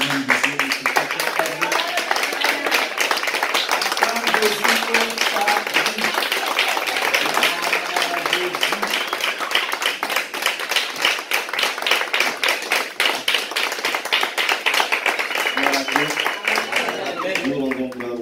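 Church congregation clapping and applauding while standing to welcome a preacher, a dense continuous rhythmic clapping throughout, with voices mixed underneath.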